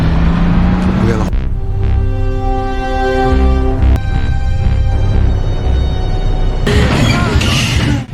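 A truck accelerates with a loud, rising engine drone and sustained tonal whine, building through the middle before a burst of louder noise near the end.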